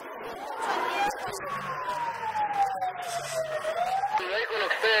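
Emergency vehicle siren wailing in a long rising-and-falling sweep during an earthquake and fire drill, loud and steady throughout, with a crowd chattering underneath.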